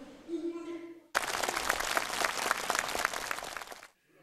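An enthusiastic crowd of participants at a closing ceremony claps steadily for about three seconds, a dense broad roar of applause that cuts in sharply after a brief announcer's voice and stops abruptly.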